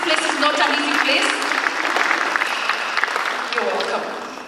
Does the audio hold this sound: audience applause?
yes